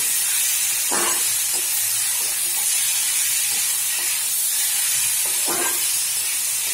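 Water added to a hot pan of softened vegetables for a spinach dish, giving a steady loud sizzle and hiss with a few clinks from stirring, no talking.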